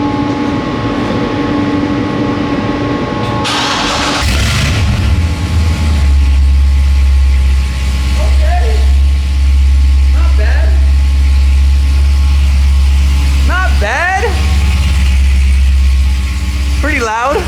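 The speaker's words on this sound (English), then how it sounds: "Let's get a cold start on this thing" A Corvette Z06 cold-starts with a sharp crank and loud bark, then settles into a deep, steady rumbling idle close by, with a few brief voice sounds over it.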